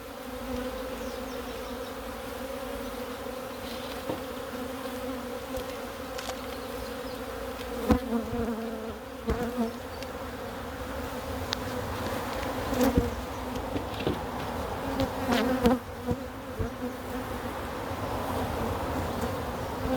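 A feisty honeybee colony in an opened National hive drones in a loud, dense, continuous buzz, with occasional soft knocks and thuds from frames being handled close by.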